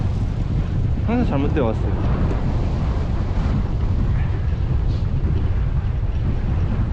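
Wind blows outdoors, a loud continuous rumbling buffet over the microphone that lasts the whole stretch, with a voice speaking briefly near the start.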